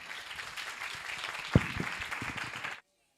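Applause from an audience at a church gathering, broad steady clapping that runs for nearly three seconds with one sharper clap near the middle, then cuts off abruptly into silence.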